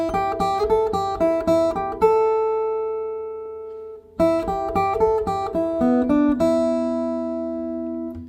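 A medley melody played alone on guitar: two phrases of quick, clear plucked notes, each settling into a sustained ringing note, separated by a short pause.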